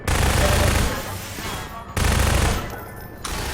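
Revolver gunfire in the Half-Life 2 video game, two loud heavy shot bursts about two seconds apart, each trailing into a decaying game-world rumble with no talk.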